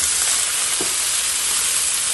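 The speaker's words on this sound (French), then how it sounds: "On va juste les faire revenir un petit peu dans la poêle chaude, très chaude." Tomatoes and cucumbers sizzle in a very hot frying pan, a dense, loud, even hiss throughout with a faint knock near the start and no voices.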